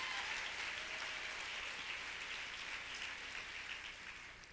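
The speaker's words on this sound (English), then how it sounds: "A round of applause for fair girls." Luncheon audience applause at a women's foundation keynote, a faint, steady wash of many hands clapping that holds evenly and tapers slightly toward the end, with no talking over it.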